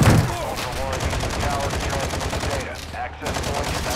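Rapid video game gunfire rattles in dense, continuous bursts throughout, loud and close, with a brief dip near the end before the shooting resumes.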